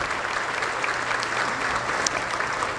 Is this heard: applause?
yes